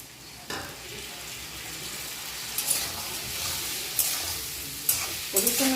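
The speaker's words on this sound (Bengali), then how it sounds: "মশলাটা ভালো করে কষে দিচ্ছি" Spice paste with turmeric, salt and a splash of water being fried and stirred in a pan, giving a steady close sizzle with several brief scraping stir strokes toward the end.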